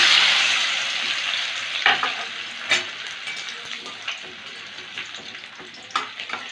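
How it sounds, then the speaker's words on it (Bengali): Chopped ginger fries in hot white oil in a wok for a vegetarian chow mein, a continuous close sizzle with a few sharp spatula scrapes and clacks, no voices. "আদাটা একটু ভেজে নিলাম"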